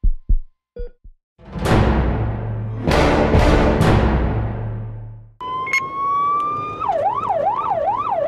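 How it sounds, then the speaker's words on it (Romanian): A SMURD ambulance in traffic: thumps and loud whooshing bursts give way to a close, loud siren, a steady tone switching into a fast warbling wail. "Dacă merge în trafic cu sirenă și cu girofar, atunci să fiți convins de faptul că se duce la intervenție."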